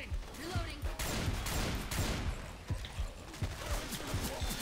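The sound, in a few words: gunfire from teammates in the video game Left 4 Dead 2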